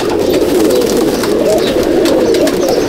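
Madrasi pigeons coo inside a loft at Howrah, a dense, continuous low burbling from many birds at close range, with faint rustling and no clear talking.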